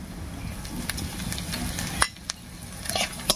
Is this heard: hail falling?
no